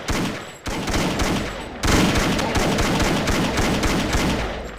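Rapid, continuous gunfire from a modded AK47-style gun in Minecraft, shot at zombies. Dense, loud bursts run throughout with only brief breaks near the start.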